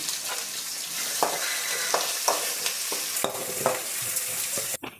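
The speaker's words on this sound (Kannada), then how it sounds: "ಈಗ ಈರುಳ್ಳಿ ಫ್ರೈ ಆಗ್ತಿದೆ" Thinly sliced onions with curry leaves frying in an oil tempering: a dense, even sizzle close up, punctuated by several distinct stirring strokes, with no voices.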